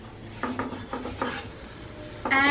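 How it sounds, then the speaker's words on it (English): A covered cheese Schezwan veg sandwich sizzles on a pan, with a low steady hiss under a few short scraping and clinking touches from a utensil near the end and no talking. "This again is going to go on the pan for like 5 seconds"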